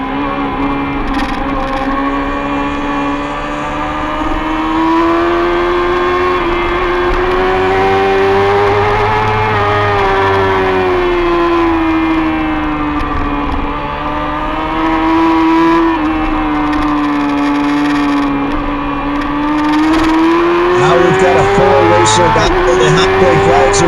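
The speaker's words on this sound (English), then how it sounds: "Mills, of course, riding an FZR 400." Yamaha FZR 400 racing motorcycles scream around a track during a women's race, a loud continuous high-revving engine wail rising and falling through gear changes, with commentary talking over it.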